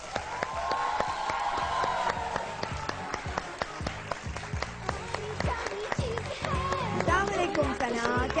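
A studio audience claps steadily to welcome a guest anchor on a Pakistani morning show, dense sustained applause close up, with voices and music tones under it.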